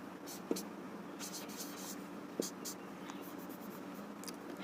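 Pen scratching on paper during a Class 7 maths lesson, working out a total for a pie chart; soft continuous scribbling strokes with a couple of sharper taps, close and quiet, no talking over it.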